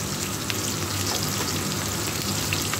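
Ingredients fried in hot oil, added a little at a time, producing a steady, close crackling sizzle with fine pops, unbroken and even in level, with no talking over it.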